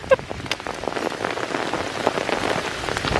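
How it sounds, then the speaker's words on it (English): Hail pelting down outdoors in a Swedish hailstorm in freezing weather, a dense, steady patter of countless small impacts that stays constant and fairly close throughout. "So I don't know if you can hear, but it's hailing now."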